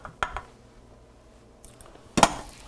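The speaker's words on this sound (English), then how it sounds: "put the skillet back there" A metal skillet used for cooking crepes set down on a stovetop: a couple of sharp metallic knocks at first, a quiet pause, then a louder clattering clank near the end.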